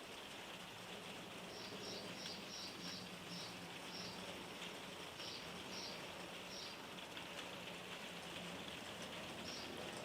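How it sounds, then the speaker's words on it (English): Soft, steady rain patters on a roof without pause, with faint bird chirps scattered in the background. "I've got gentle rain on the roof"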